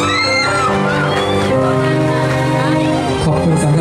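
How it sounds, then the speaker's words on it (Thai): A concert crowd at a Thai pop show screams and whoops, the shrill voices rising and falling around a loud, steady background of music and amplified sound. "ขอบคุณสำหรับเสียงกรี๊ดที่หนาแน่นเหลือเกิน"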